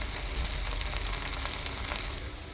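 Soaked rice and vegetables sautéed in a pressure cooker for a veg pulav give a steady, close sizzle and crackle that holds evenly throughout, with no voices.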